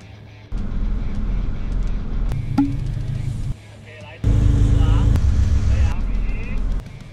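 A Perodua Ativa 1.0 Turbo car accelerating during an acceleration test, a loud steady engine drone that steps up sharply in level partway through, heard from inside the cabin with people talking over it.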